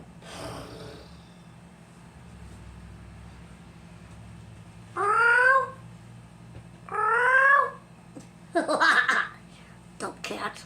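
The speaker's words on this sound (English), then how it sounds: "Dumb cat." A cat meows close by in several loud, drawn-out cries, two long ones and then a few shorter ones, over a low background hum after a quiet stretch.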